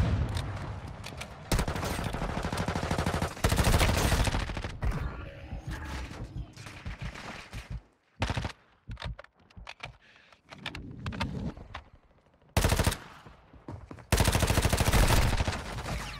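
A gun firing in burst mode in the Warzone Mobile battle royale game, repeated loud volleys of rapid shots separated by quieter gaps with mechanical clicks, close and dominant.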